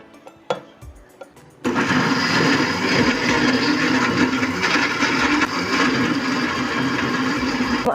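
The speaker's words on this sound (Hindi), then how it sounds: "अभी इस प्याज को भी ग्राइंडर मशीन के जग में डाल रही हूँ" An electric kitchen grinder jug blends onion, green chillies and tomato. A few clicks and light knocks come first, then the motor kicks in with a loud, steady whirring roar that keeps running close up.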